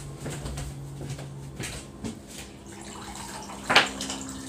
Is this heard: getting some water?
yes